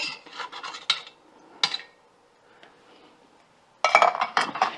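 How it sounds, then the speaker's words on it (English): Metal spoon scraping thick contents out of a can into an Instant Pot while making potato soup, a series of close, raspy scrapes and clinks in bursts with a quiet gap between them. "It's always hard to scrape all these cans out and get everything all out."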